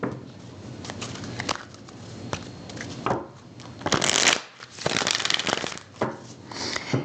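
Tarot cards are shuffled up close in quick riffling, papery bursts, several rounds separated by short pauses, with no one speaking.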